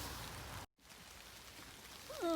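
Rain falls steadily on a forest while ear mushrooms are being picked, a soft continuous patter interrupted by a brief dropout, with a bird chirping near the end.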